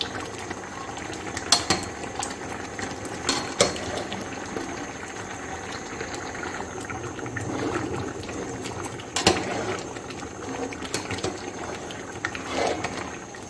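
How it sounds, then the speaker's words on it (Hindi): A spoon stirs boli mixture in a pot as it cooks down and dries, giving a continuous sizzling, bubbling texture with occasional sharper scrapes and clinks against the pot, close and steady with no speech. "ये भी अच्छी तरह खुश्क हो जाए और मुसलसल चमचा चलाते रहना है।"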